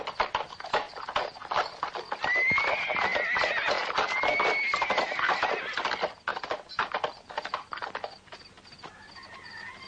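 A horse in a Western film setting trots with rapid clip-clopping hooves close by, letting out a long, loud neigh partway through before the hoofbeats continue and fade into scattered clatter.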